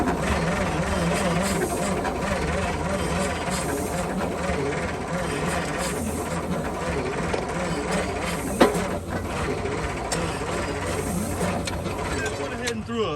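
A 1955 Chevy truck engine turning over on a used starter with a solenoid, a long, loud, rhythmic mechanical cranking that whirls steadily for many seconds without catching, with a voice talking over part of it.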